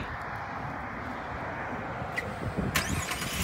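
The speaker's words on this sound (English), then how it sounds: "go ahead and start this truck on up for you" A 2018 GMC Canyon pickup with a V6 starts up, a brief starter whir and squeal catching into a running engine close by near the end, after steady background rumble.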